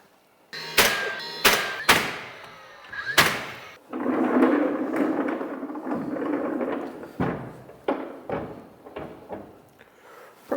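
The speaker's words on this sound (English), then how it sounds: "I'll pull one drawer out so I can work from one side" Wooden drawer pulled out of a cabinet, several sharp knocks and thuds followed by a longer sliding rumble of wood on wood, close and loud, with clunks afterward.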